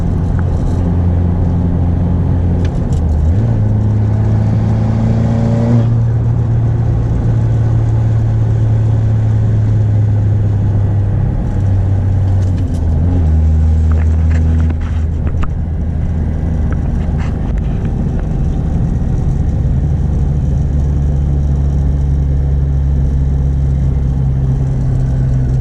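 A 10th-generation Honda Civic Sport hatchback FK7 fitted with Hasport engine mounts accelerates through the gears, its engine droning and rising in pitch with audible drops at each shift, loud and steady from inside the car.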